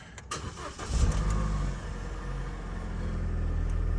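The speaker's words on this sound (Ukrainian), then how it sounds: "Заводимо корсочку." An Opel Corsa's engine cranks briefly and catches, then settles into a steady idle that grows slightly louder, heard close up with no talking.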